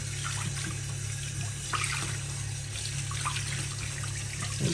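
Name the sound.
tap water running over plastic shelf dividers in sink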